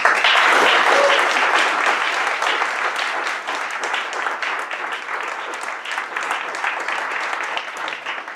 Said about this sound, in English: Everyone please, round of applause